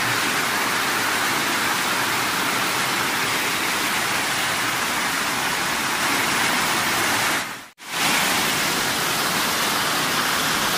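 Steady broadband roar of a waterfall near a lake on a Brazilian trail, loud and continuous, with one brief dropout near the end.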